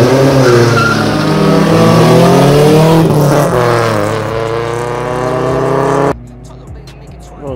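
Brazilian VW Gol G3 1.6 accelerating hard in a street race against a Parati G3 1.6, a loud, close engine revving with rising harmonics through the gears before cutting off abruptly near the end.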